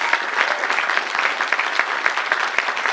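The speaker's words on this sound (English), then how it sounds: "give yourself a round of applause" A large crowd claps steadily, a dense, loud wash of applause that holds evenly for the whole stretch without any voices.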